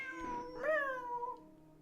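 A single drawn-out cat meow from a cat in the video game Genshin Impact, close and clear, rising then sliding down in pitch.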